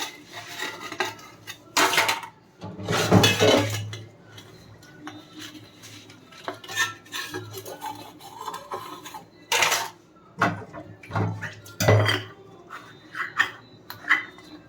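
Dishes are washed in a home kitchen, with scattered clinks and clatters of pots, plates and cutlery, some sharp knocks, and soft rubbing sounds between them, heard close up.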